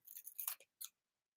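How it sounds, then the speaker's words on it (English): Scissors snip through fresh salsa ingredients in a quiet kitchen, a quick run of soft crisp cuts followed by one last snip, faint and close. "what I like is to use a pair of scissors. And you want to cut them, maybe 1/8 of an inch."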